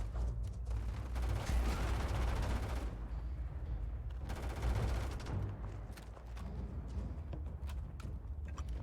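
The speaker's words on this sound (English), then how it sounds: "Just burn through all my ammo here really quick." Sustained automatic gunfire in Starfield, a loud dense burst of rapid shots running for a few seconds, breaking off, then resuming before trailing into scattered single shots and mechanical clicks.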